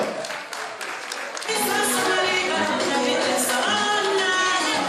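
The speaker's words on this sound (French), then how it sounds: "S'il vous plaît, applaudissez très fort" An audience at a Guinean independence anniversary celebration in Manchester, UK, applauds Madame Diallo Binta. Dense, steady clapping swells and then holds for several seconds, with voices talking over it.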